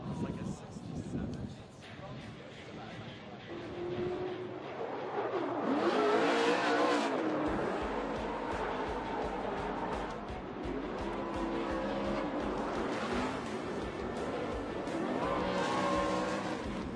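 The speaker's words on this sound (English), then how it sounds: "Vaughn Gittin Jr. Monster Energy Nitto Tire Mustang RTR." Vaughn Gittin Jr.'s Monster Energy Nitto Tire Mustang RTR drift car at Formula Drift Long Beach on the streets of Long Beach, CA, its engine revving and tires squealing loudly and steadily, with excited commentary talking over it throughout.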